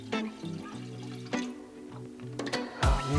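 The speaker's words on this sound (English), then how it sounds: "Start by getting all of this coconut milk out of the can." Coconut milk glugging out of a can into a pot, a few short wet pours and drips with uneven gurgling bursts, close and fairly quiet.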